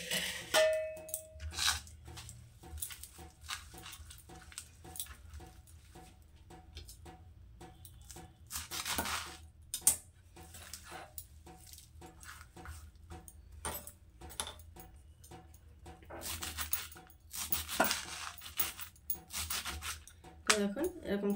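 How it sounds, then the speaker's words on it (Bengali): Knife chopping freshly washed coriander leaves into small pieces for coriander fritters, a steady run of close, soft rhythmic taps and scraping cuts on a board, with louder bursts of quick strokes. "এবার ধনেপাতাগুলো আমি ছোট ছোট করে কেটে নেব"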